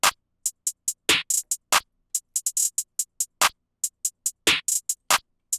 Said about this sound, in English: snare 5, which is the no lie snare, which is going to sound like this in conjunction with the hi-hat and clap